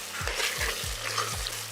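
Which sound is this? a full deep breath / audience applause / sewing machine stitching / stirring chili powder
stirring chili powder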